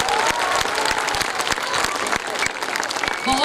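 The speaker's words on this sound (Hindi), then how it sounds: "आपकी तालियों की गूंज में पता चलेगा कि आपको कैसा लगा।" An audience applauds at a prep school Urdu stage play, with dense, loud, continuous clapping from a crowd throughout and a few faint cheers mixed in.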